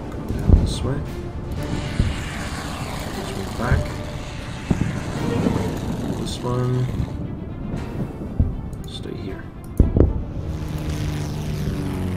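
Propeller aircraft engines droning in a naval strategy video game, a steady mechanical hum with occasional sharper game effects, under someone talking throughout.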